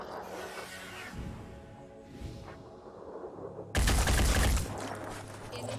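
Gunfire in the video game Phoenix Point: a burst of rapid, loud, close shots near the end, following quieter whooshing and rattling game sounds.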